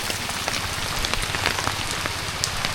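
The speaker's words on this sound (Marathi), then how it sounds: "सकाळी काय पाऊस नव्हता, दुपारी चालू झाला पाऊस" Light drizzle falling steadily on surfaces outdoors in the Konkan countryside, a dense close patter of scattered drops with no voices.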